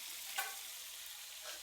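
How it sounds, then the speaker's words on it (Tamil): Fish curry (seppili fish with onion, tomato and tamarind) sizzles and bubbles in a pan as a steady, soft hiss, with two brief louder spurts of frying, no voices. "செப்புளி மீன் பொரியல் எப்படி கொதிக்குது"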